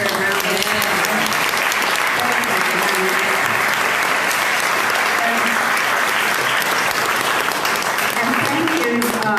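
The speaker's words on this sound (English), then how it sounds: "Let's give the candidates a round of applause" Sustained applause from an audience at a Sedona Chamber of Commerce mayoral candidate forum, dense and even clapping throughout, with a few voices faintly audible underneath.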